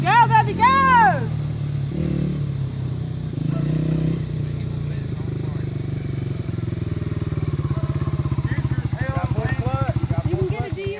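A dirt bike engine idles and revs with a steady low pulsing rumble through most of the stretch, swelling louder toward the end, while people talk and shout excitedly over it at the start.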